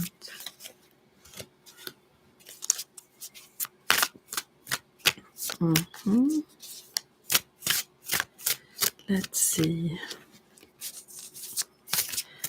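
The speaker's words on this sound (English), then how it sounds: "To shuffle them a bit more so it doesn't come up the same cards now." A deck of tarot cards is shuffled by hand in sharp, rapid riffling snaps and papery slides that come in uneven bursts, with a few quiet spoken words between them.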